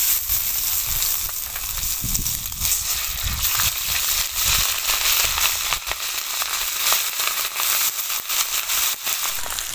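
Cumin powder and ginger paste fry in hot oil in a village kitchen, a loud, continuous crackling sizzle that stays dense and steady throughout, with no talking.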